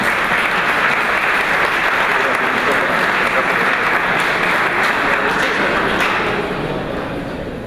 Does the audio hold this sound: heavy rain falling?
no